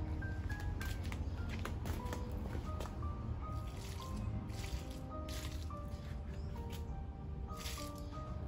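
Water is added to garden fertilizer outdoors, a soft, faint sloshing and trickling that runs steadily while birds chirp in the background.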